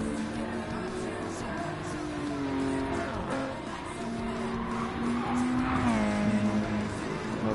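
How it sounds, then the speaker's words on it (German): Race car in Gran Turismo 7 pulling into the pits during a race at Lago Maggiore, its engine droning steadily with pitch shifts as it slows, other cars passing nearby and faint commentary beneath. "Cluster fährt an die Box."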